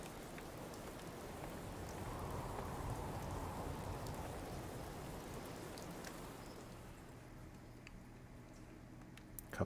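Steady rain hisses in a video game, soft and continuous with scattered drip ticks, easing slightly toward the end with no voices.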